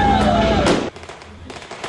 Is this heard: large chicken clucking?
no